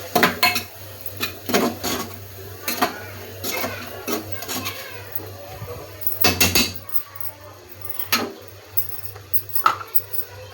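A utensil scrapes and clanks against a pan while stuffed capsicum filling with kasuri methi is stirred, giving repeated close metallic knocks and scrapes in an uneven rhythm.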